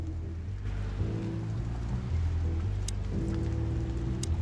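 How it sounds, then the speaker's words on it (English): Steady rain falls in the noir video game Chicken Police, a constant soft patter over a low, droning ambient bed, with no voices. "What are you waiting for out here in the rain?"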